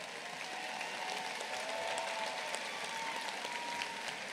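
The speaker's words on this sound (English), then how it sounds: "Let's give these students a round of applause." Steady, broad applause from a commencement ceremony audience, a dense wash of clapping that holds loud and even throughout with no voices above it.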